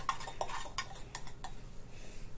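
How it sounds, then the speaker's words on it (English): Small whisk clinking quickly against the side of a bowl while mixing spices for roasted butternut squash soup, a run of light metallic taps that fades out toward the end, quiet and close, with no talking. "But I'm going to mix up all these lovely spices."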